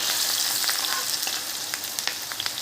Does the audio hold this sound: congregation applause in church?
no